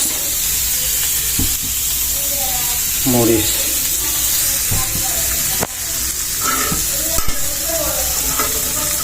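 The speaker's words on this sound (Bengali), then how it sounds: "পেঁয়াজ দিচ্ছি প্রথমে, তারপর দিব হলো মরিচ।" Onions sizzle steadily in a hot pan on a stove as a spoon stirs and scrapes through them in scattered strokes, loud and close, with faint voices in the background.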